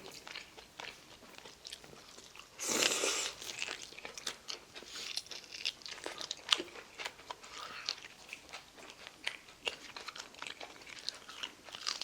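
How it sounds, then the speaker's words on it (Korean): Braised pork trotters (jokbal) being torn apart and chewed up close, with soft crunching, wet chewing and smacking in irregular bursts, including a brief louder tearing rustle early on, with no talk. "역시 족발은 뜯어 먹어야 해."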